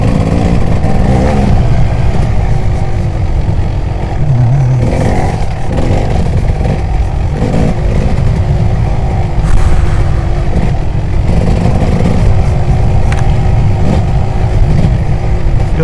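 Kawasaki KX250 two-stroke enduro dirt bike ridden slowly along a wet, rocky woodland trail, its engine droning steadily and loudly throughout with small throttle surges and clattering chassis bumps.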